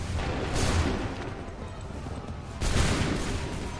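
Musket volley fire in Assassin's Creed III, two dense bursts of many shots cracking together, loud with rolling echo between them.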